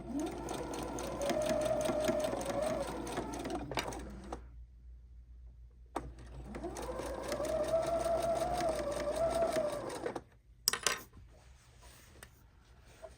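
A sewing machine stitches a fabric bib in two long, steady whirring runs separated by a pause, ending with a few quick clicks and clatters as the fabric is pivoted and adjusted.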